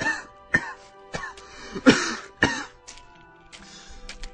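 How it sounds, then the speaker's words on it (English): A man coughs in a sequence of about six harsh, separate bursts that spread over four seconds, up close, with hoarse throat-clearing mixed in and no speech. "How long have you had that cough?"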